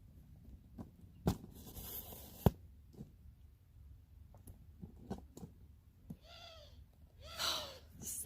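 An owl gives a couple of hoots toward the end, at moderate distance, after scattered clicks and thumps in an otherwise quiet outdoor setting.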